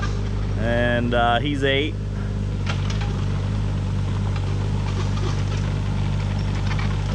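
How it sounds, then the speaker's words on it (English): Mini excavator driving in at a shed pad site, a steady low diesel engine rumble near and constant, with someone speaking briefly early on. "Got Saul bringing the mini excavator in"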